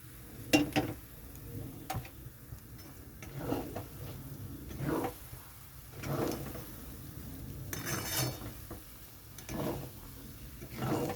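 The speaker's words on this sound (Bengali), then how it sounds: "এখানে আমি খুব অল্প পরিমাণে জল দিয়ে দিচ্ছি" Cooking sabudana khichdi in a pan as a small amount of water goes in, soft sizzling and stirring with scattered clinks and scrapes of utensil against pot, quiet and close, no voices.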